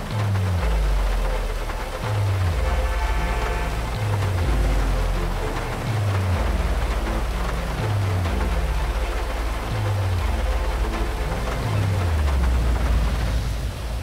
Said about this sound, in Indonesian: hujannya ribet banget ini hujan di GTA ini ribet